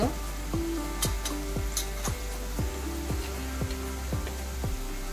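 Onions sizzle steadily in hot oil as turmeric and asafoetida are added, with a series of regular stirring scrapes and clinks against the pan over a constant frying hiss.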